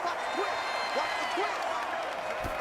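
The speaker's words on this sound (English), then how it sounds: "This crowd turning up the decibel level." A stadium crowd roars in Madden NFL 25 during a Jacksonville Jaguars–Cincinnati Bengals game. The broad, steady wash of cheering sits under an announcer's commentary.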